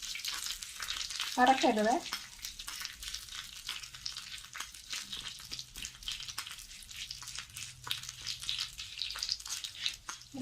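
Urad dal frying and being stirred in a hot pan, a steady close sizzle with scraping stir strokes and a louder burst early on, one brief word spoken.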